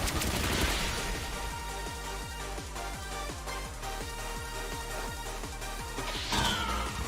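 Meowscarada's Pin Missile attack in Pokémon Scarlet, heard as a rapid, rhythmic volley of pulsing impacts over a dense, loud game soundtrack, lasting several seconds with a brighter burst near the end.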